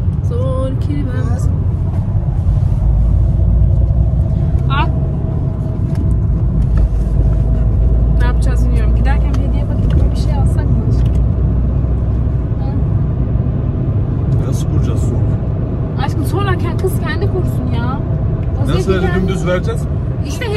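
A car heard from inside the cabin while driving: a steady loud low road rumble and engine drone fills the whole stretch, with people talking over it throughout.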